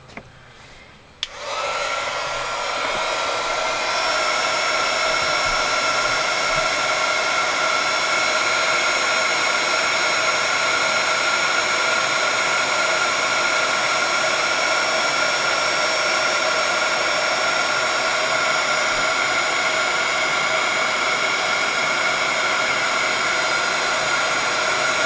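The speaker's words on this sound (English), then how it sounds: "I'm going to grab my heat tool." A heat tool blows hot air for card making, switching on after a second of quiet and then holding a loud, steady, even whoosh right up close with no talking.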